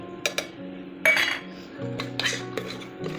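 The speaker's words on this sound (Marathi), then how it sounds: "आता मी याच्यात खडे मसाले घालते." Whole spices dropped into a pan of ghee with cooked onion, giving scattered metallic clinks and scraping from a utensil amid a soft low hum of cooking.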